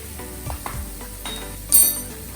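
A spoon stirs Frankie masala through an aloo corn filling in a pan, with soft scraping, low sizzling and a brief clink of utensil against the pan near the end.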